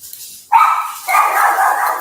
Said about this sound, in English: Good grief with these freaking dogs.